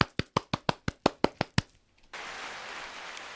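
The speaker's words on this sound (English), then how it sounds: "Kaley gets a big clap" Hands clap about ten times in a quick, even rhythm for Kaley after her wedding. The claps are crisp and fairly close, then stop, leaving a brief hush before a steady hiss.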